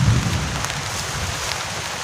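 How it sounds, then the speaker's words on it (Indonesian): Heavy rain pours down steadily on a camping shelter during a storm, a dense continuous hiss with a low rumble underneath and no voices. "ini hujannya udah deras lagi."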